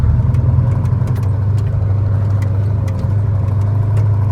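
A truck loaded with sugar beet pulls away slowly from a sugar factory, its engine giving a loud, steady low rumble from inside the cab.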